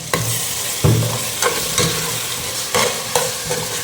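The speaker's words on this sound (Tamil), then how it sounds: "ஜிஞ்சர் கல்லி பேஸ்ட் போட்டுக்கிறோம் ஒரு அஞ்சு கிராம் போட்டுக்கலாம்" Ginger garlic paste sizzles and fries in a hot pan for mutton dum biryani, with loud, repeated stirring scrapes at irregular intervals over a steady crackle.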